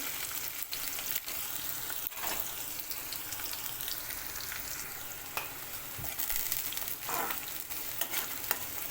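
Thick-cut onion frying in a pan with ajwain, a continuous close sizzle and crackle with occasional stirring scrapes and pops over the whole stretch.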